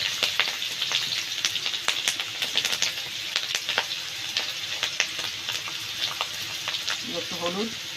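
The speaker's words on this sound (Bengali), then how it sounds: "ফোড়নটা ভাজা হয়ে গেছে, এবার দেব" Green chillies dropped into a hot oil tempering with a bay leaf for a bottle gourd and prawn dish, crackling and spitting with dense rapid pops over a steady sizzle, up close, with a brief voice near the end.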